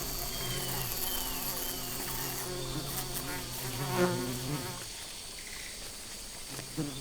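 Bees buzz around treehoppers in the Amazon rainforest, a continuous drone of several insect wings hovering close by, with a faint low hum and quiet rustles underneath.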